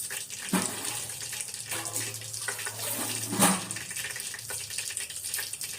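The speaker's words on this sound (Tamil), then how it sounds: "இப்போ நம்ம இந்த திட்டமாக கொஞ்சம் தண்ணி ஊற்றி திட்டமாக பிசைஞ்சிக்கணும்." Water trickles and splashes into a bowl of flour for kneading dough for kara bonda, with soft intermittent pours and light handling sounds, fairly quiet and close, with no talking.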